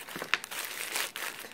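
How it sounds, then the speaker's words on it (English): Paper being crumpled into balls for a mask armature, close crinkling with a sharp crackle near the start and a brief rustling burst later, no talk. "So I just kind of crumple some balls, get some tape."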